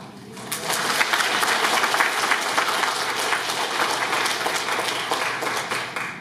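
A church congregation bursts into sustained applause during Mass, many hands clapping together in a dense, even roar that swells quickly and holds steady for several seconds.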